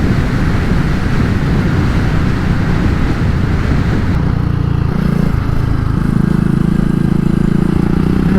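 A 2022 BSA Gold Star motorcycle riding at low road speed, its engine a steady thrum under heavy wind rush, with the tone shifting partway through as the ride continues, close and continuous.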